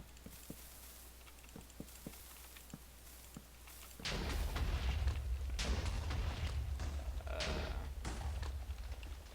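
Several blocks of TNT go off in a video game: faint scattered taps give way to a sudden loud, rumbling blast that roars on for several seconds.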